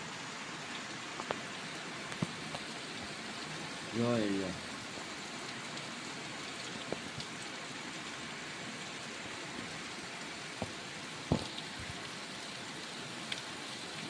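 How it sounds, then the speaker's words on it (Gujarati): Heavy rain comes down on a farm in a continuous broad hiss, with a brief spoken phrase and a few scattered knocks over the downpour. "વરસાદ જબરદસ્ત પડે છે અત્યારે"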